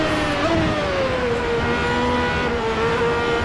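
Race car engine in the sim racing game Automobilista 2 at Silverstone, a roughly 700-horsepower car held in fourth gear, its loud continuous drone dipping and sliding in pitch as revs sag, heard alone without talk.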